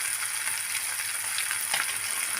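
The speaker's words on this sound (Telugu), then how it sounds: "అన్నీ వేసుకొని ఫ్రై చేసుకోవాలి బాగా." Ingredients for Bombay chutney frying and sizzling steadily in a pan, a dense continuous hiss with faint stirring scrapes and no voices.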